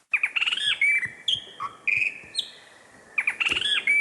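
Australian birdsong from a chart-topping album: several birds chirp and trill in bright, repeated bursts, with a dense chorus of calls at the start and end and a faint insect-like hiss underneath.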